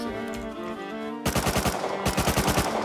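MP5 submachine gun fire in the survival game Rust: a rapid, steady burst of sharp shots over background music, with a brief pause before a second quick burst.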